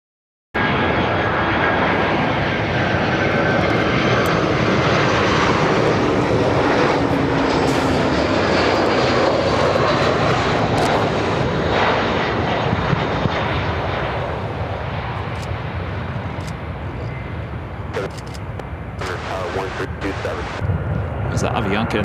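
An airliner in Star Alliance livery at Chicago O'Hare produces a loud, sustained jet engine roar that gradually eases off, with brief voices and clicks near the end.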